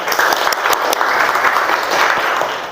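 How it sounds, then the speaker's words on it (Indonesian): Classroom students clapping during a science lesson, a loud, dense burst of close applause with a few sharper individual claps standing out, lasting a couple of seconds. "Ya, tepuk tangan."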